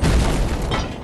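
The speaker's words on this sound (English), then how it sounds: "They will start throwing fire bombs, so just be careful." Fire bomb explosion in Dark Souls III: a loud, dense booming burst with rumbling low end that fills the whole second, with no talk over it.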